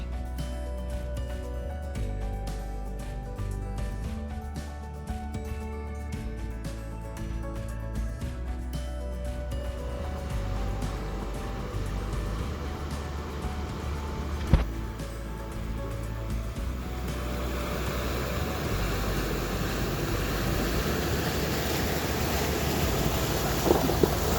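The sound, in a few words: vehicle driving through creek water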